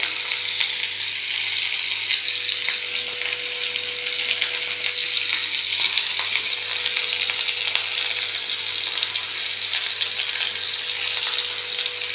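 Tomatoes with a pinch of salt fry in a pan over lowered heat, giving a steady, dense, close sizzle that runs unbroken throughout with no voices.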